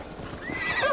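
A horse whinnies loudly and close in Assassin's Creed Valhala on PS5, a rising then falling neigh over a brief, busy background.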